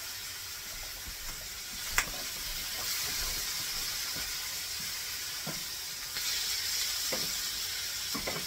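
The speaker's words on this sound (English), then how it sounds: "We don't have any stewed tomatoes, but we do have diced tomatoes. So we're going to add those in there." Diced tomatoes hitting a hot pan for shepherd's pie, giving a steady broad sizzle and hiss with small stirring clicks and bubbling, one sharper knock early on, continuous and moderately close.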